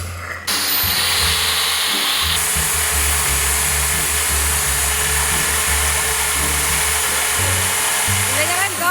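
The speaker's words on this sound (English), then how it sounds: "I'm gonna push on the drill." A power drill runs steadily and loudly at a high whine, spinning up and continuing for several seconds with small dips in pitch as pressure is applied during a DIY shelf project.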